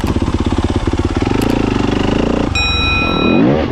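Dirt bikes ride along a Michigan trail, a close, loud engine puttering in fast rhythmic pulses, then holding and revving higher toward the end, no talk.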